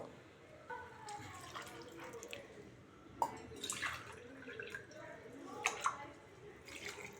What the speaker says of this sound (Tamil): ஒரு கப் ரைஸுக்கு ஒன்றரை கப் தண்ணி போதும் தண்ணி ஊற்றிடலாம் இப்போது